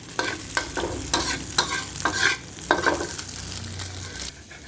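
Fried rice with baby corn, egg and sauce being stirred in a hot frying pan: repeated scraping strokes of a spatula over a continuous sizzle, close and fairly loud, without voices.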